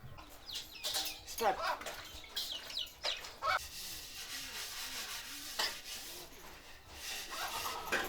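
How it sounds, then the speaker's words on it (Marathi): Dishes and a brass water pot (tambya) being scrubbed by hand, a repeated rough rubbing and scraping in uneven strokes, close by, with a rooster crowing faintly and people talking intermittently. "आणि किती वेळ झालं भांडे घासते"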